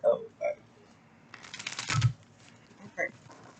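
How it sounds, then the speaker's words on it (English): A thick deck of tarot cards being shuffled, a short rapid riffle of papery flicks close by, with faint voice sounds before and after. "One last shuffle, because these bitches is thick though."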